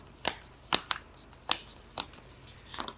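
Tarot cards shuffled by hand before drawing, a series of crisp riffling snaps at irregular intervals, close and fairly quiet, with no talking.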